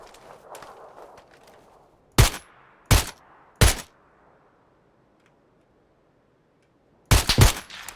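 Gunfire in the game PUBG cracks out as loud, sharp single shots, three spaced shots and then a quick double burst at the end, over a faint rumbling background with no talking.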